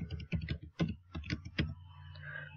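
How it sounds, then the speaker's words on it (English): Keys clatter on a computer keyboard while entering words into cutting-design software, with bursts of close, quick clicks in short irregular runs that stop near the end, leaving a faint background hum. "And type out our little words here."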